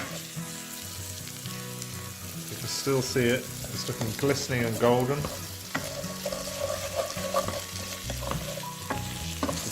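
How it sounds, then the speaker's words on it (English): Rice frying and being stirred in a pot for one-pot chicken tikka biryani: a steady close sizzle with scraping stirs, while a person talks over it. "So we're frying the rice up."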